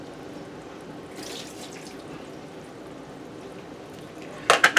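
Tap water runs in a steady, hissing stream into a sink while a homemade agar broth is being prepared, fairly faint and even throughout, with a brief louder clatter right at the end; no one speaks.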